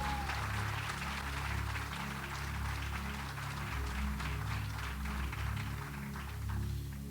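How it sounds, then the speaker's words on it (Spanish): A church congregation claps loudly and continuously, a dense sustained wave of applause filling the whole room over low musical tones. "Denle un aplauso a Jesús fuerte."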